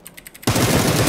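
Video game gunfire starts with a few faint ticks and then breaks into a loud, dense automatic burst that runs to the end, with no voices heard.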